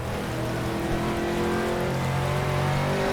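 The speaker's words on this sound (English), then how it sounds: "You can tell that it's quite heavy rain. because it's louder than the sound of the engine." Heavy rain drumming on an Aston Martin GT3 race car in rFactor at Sepang, a dense steady hiss loud enough to swamp the engine hum beneath it, continuous and close with no voices.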